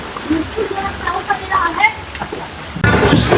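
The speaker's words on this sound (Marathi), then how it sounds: "इकडे भरपूर जोरात पाऊस पडतोय" Heavy rain falls steadily with a dense hiss near Lonavala, growing suddenly louder near the end; a voice talks over it for much of the time.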